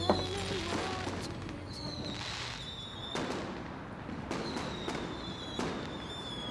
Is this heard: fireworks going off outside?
yes